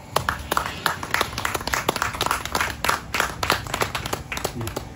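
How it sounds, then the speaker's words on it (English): An audience applauds at a rodeo launch event in Georgetown; a moderate outdoor round of clapping with distinct individual claps, fairly close and even, continuing steadily for several seconds. "So I'd just like to give them a round of applause just one more time."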